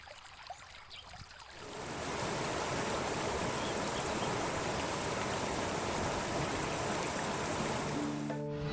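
Two rivers of different colour and flow meeting at the Devprayag confluence, heard from the ghat as a steady, loud rush of water that swells in after a quieter opening second and holds without pause.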